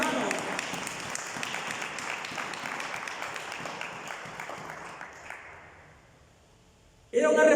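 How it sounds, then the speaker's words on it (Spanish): A church congregation gives a hearty round of applause that gradually fades away, followed by a preacher's voice resuming abruptly at the end. "Denle un fuerte aplauso"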